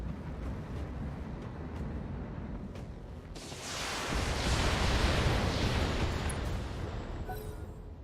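Mech turrets firing in the BattleTech tactics game: a low rumbling barrage that swells into a broad roaring blast and slowly fades, with a few sharp pops before it, heavy and fairly distant.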